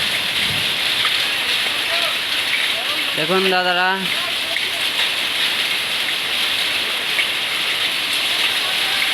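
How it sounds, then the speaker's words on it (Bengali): A hailstorm drums down hard and without a break, a dense, loud roar of ice striking surfaces, while someone speaks briefly near the middle. "খুব জোরে বরফ পড়ছে, অনেক বরফ পড়েছে, শিলাবৃষ্টি হচ্ছে"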